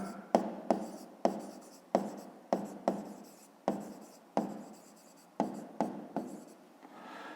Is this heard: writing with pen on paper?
yes